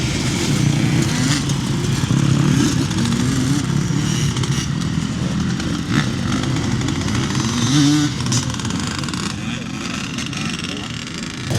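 Motocross bikes run the first Saturday heat at a race weekend, their engines a continuous loud buzzing roar with revs rising and falling throughout.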